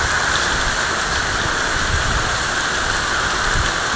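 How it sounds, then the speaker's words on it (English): Heavy tropical rain in Borneo pours down as a dense, steady hiss of drops hitting surfaces, loud and unbroken throughout with no voices. "But I mean, it's not normal rain. It's like Satan's rain."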